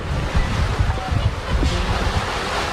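Strong wind roars and buffets the microphone continuously, with a heavy rushing rain-like wash underneath, loud and close throughout.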